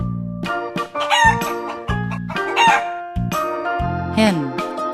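Hen sound effect: loud, close, repeated clucks and squawks in short bursts, layered over a bright musical backing, with no voices.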